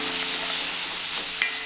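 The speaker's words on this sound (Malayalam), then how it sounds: "സവാള പെട്ടെന്ന് വഴന്ന് വരാൻ കുറച്ച് ഉപ്പ് ചേർക്കാം." Onions sautéing in a pan for chana masala, a steady close sizzle and frying hiss filling the clip with a few faint stirring scrapes and no talk.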